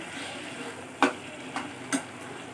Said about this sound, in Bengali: ব্যাস আর একটু ফুটিয়ে একটু মাখা মাখা করে নেব